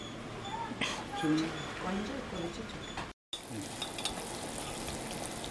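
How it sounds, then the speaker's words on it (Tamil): Tamarind chilli curry (mulaku varutha puli) bubbles and sizzles as it reduces in a pot, a soft continuous simmer with a brief dropout partway through. A voice speaks over it. "நல்லா கொதிச்சு சுண்டட்டும்"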